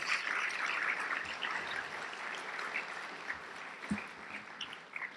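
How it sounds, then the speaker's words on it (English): Applause from a conference audience for the presenters, a steady dense patter of clapping at moderate distance that thins out toward the end, with no voices over it. "can I please have a hearty round of applause for our presenters?"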